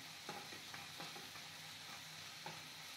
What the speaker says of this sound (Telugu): సో ఇలా మధ్యలో అడుగంటకుండా కలుపుకుంటామండి.